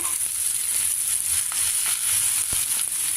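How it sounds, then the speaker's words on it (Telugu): Stuffed tender ivy gourds (tindora) frying in a pan: a steady, bright sizzle of hot oil with a few soft clicks and taps of stirring, fairly quiet and without talk. "మొత్తం అన్ని దొండకాయలు బాగా వేగాయి"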